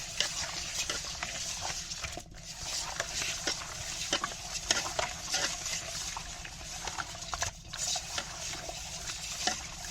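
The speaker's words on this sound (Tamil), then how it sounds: "நல்லா உரச்சி கழுவணும். இந்த வழுவழுப்புலாம் போகணும்." Fish (vaalai meen) is scrubbed and washed by hand in water, making continuous close wet rubbing and sloshing with irregular soft splashes throughout.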